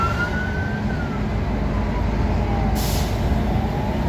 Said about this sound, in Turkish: Ambulans geliyor, yol veriyor.